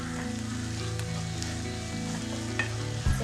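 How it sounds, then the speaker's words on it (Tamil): Chopped tomato sautéing in a hot pan with softened ingredients, a steady close sizzle and crackle with a few stirring clinks, no talk. "சேர்த்து நல்லா வதக்கணும்"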